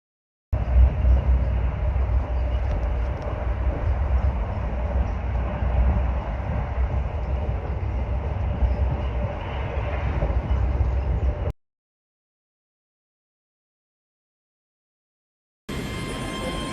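Interior of a train travelling up toward Edinburgh holds a steady, loud rumble of wheels and carriage noise for about eleven seconds, then drops to silence before the rumble returns briefly at the end.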